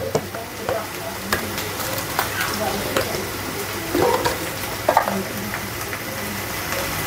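Chopped onion and green chili fry with salt and turmeric in a pan, a moderate sizzle with occasional stirring clatters and a few louder scrapes.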